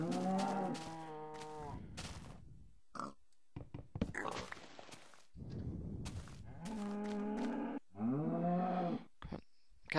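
Cows moo in the video game Minecraft: several drawn-out, harmonic lowing calls come close and clear, with gaps of quiet between them.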